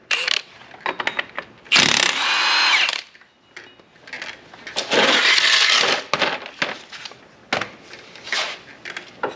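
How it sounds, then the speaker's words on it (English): Power tool, likely an impact wrench, breaking loose a 27 mm nut on a 2011 Polaris Ranger 800 side-by-side, heard as several loud, close bursts of whirring and hammering separated by clanks and handling noises. "We'll take this nut off, that's 27 millimeter."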